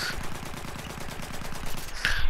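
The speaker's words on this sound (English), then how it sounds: "I shall shoot this person down" Rapid automatic gunfire from an assault-class weapon in Battlefield 1, a steady stream of close shots repeating at a fast rhythm, with a brief louder burst near the end.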